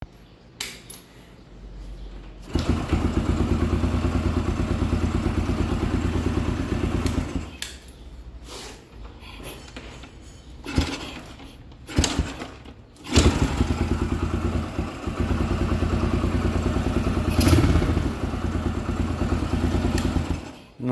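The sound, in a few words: rebuilt Yamaha YBR 125 motorcycle engine starting and running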